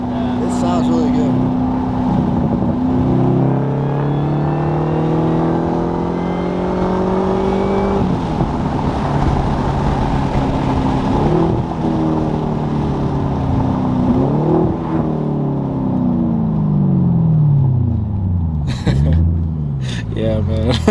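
A supercharged 600 hp 2013 Cadillac CTS-V engine revs loudly and steadily, its pitch climbing and falling through repeated accelerations, with voices talking over it.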